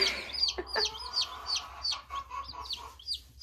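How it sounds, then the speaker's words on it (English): Baby chicks a few days old peep in a quick run of high, thin chirps, close and fairly soft, with no voices. "we got baby chicks only a few days from Easter"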